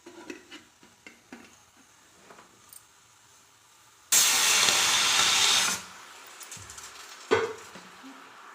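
Idli batter steaming in an idli cooker, heard as a loud, steady rush of steam hiss lasting a couple of seconds, set among faint clinks and stirring sounds before and after.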